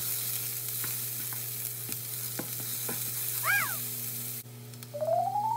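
Onions and hot pepper fry in a pan with a steady sizzle while a utensil stirs and scrapes in occasional knocks, and a brief rising squeak appears near the end.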